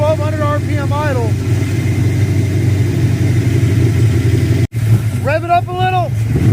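An old car brought back to running after 27 years idles steadily at about 1200 RPM with an even, close mechanical drone. Someone talks over it partway through.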